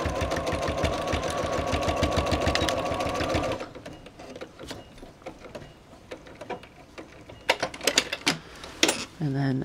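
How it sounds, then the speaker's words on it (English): A sewing machine stitching a reversible double-layer sling in lightweight fabric, a fast rapid-fire run of needle strokes for a few seconds, then stopping, followed by softer handling clicks and short bursts. "So I'll just go back in and re-sew the ones that I accidentally took out"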